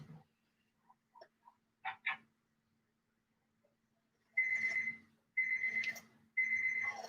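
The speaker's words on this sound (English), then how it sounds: "More timers." A timer sounding in three loud bursts of electronic beeping in the second half, after faint scattered clicks and a brief double chirp earlier, in an otherwise quiet indoor room.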